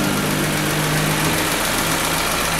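A Peugeot 207 1.4 8v TU3JP petrol engine from 2011 idling steadily in a workshop during a service, a close, even mechanical hum with a constant low drone and no talk.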